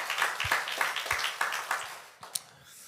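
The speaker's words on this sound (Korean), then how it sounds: "우리 하나님께 영광의 박수를 드립니다." A church congregation claps in worship, a brief burst of fairly rhythmic, close hand claps that thins out and fades toward the end.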